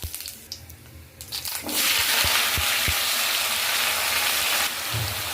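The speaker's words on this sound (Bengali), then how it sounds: "প্রথমেই আমি জিরে আর তেজপাতা ফোড়ন দিয়ে দিলাম" Cumin seeds and bay leaf dropped into hot oil for tempering: after a few light clinks, a loud, dense hissing sizzle bursts up and holds steady, close to the pan, with no voices.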